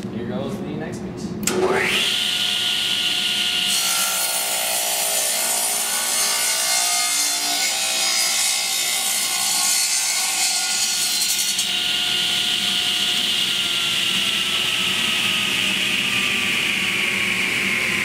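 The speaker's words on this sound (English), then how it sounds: "want to make sure that the saw completely stops before you go and move your piece of wood" A power saw cuts through a piece of wood being shaped into a baseball bat, starting with a sharp onset and then a loud, steady whining drone that holds for about fifteen seconds, close and continuous.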